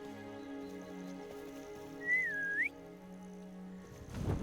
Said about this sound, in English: that was the weakest whistle ever